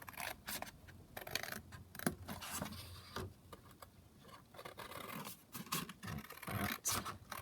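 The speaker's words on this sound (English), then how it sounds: "let me just cut this one out." Scissors snip a paper piece out in a string of quick, close cuts with soft scratching and rustling of paper between them, no talking.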